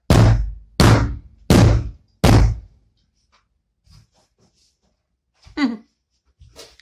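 Four heavy sledgehammer blows thud in quick succession up close, followed by quiet shuffling and a couple of softer knocks.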